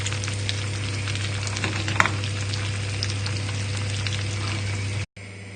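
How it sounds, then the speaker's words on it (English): Butter and sugar bubble in a pan on a small hob burner for a pear tarte tatin, a steady close frying hiss over a low hum, cutting out briefly near the end. "So all we need to do is just leave this to bubble"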